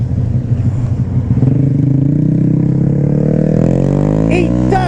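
A big-bore Honda Grom motorcycle fitted with a Hindle exhaust revs loud and close, its engine note climbing steadily in pitch through a sustained acceleration.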